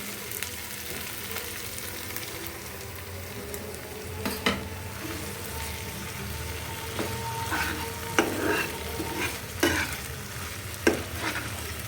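Spiced masala and yogurt being stirred in a pan for a Bangladeshi-style chicken roast: steady scraping strokes over a soft sizzle, with a few sharper clacks of the spoon later on. No one speaks.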